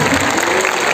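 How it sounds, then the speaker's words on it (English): Audience applause fills a school science exhibition hall, a dense, steady wash of many hands clapping at once, loud and close, with no pauses and no voices. "your applause says"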